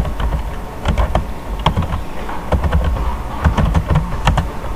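Typing on a computer keyboard in Microsoft Word: quick, irregular key clicks in close, uneven bursts with brief pauses, recorded up close and alone.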